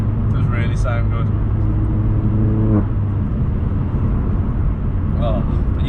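Vauxhall Astra H VXR exhaust, a steady loud engine rumble from a moving car that rises briefly in a rev, with people talking over it throughout.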